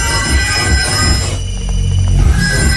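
A telephone rings with a harsh, trilling bell tone, loud and close, pausing briefly before ringing again.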